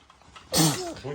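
A single sharp sneeze bursts out close and loud, followed by a short voiced tail, in a home setting where a child is building Lego sets.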